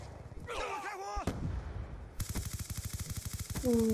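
Rapid bursts of automatic gunfire rattle through a shooter video game, a dense run of evenly spaced shots filling the second half after an earlier single loud crack, with a brief voice heard early on.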